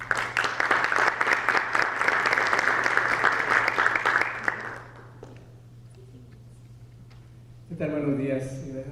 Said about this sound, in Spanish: Recibamos con un fuerte aplauso al doctor Juan Piñón.